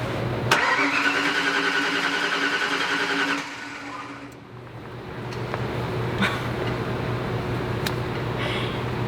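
A Ford Mustang 5.0 Fox Body with a new ignition coil and TFI module cranks, the starter whirring steadily for a few seconds before cutting out without the engine catching, leaving a low hum and faint clicks.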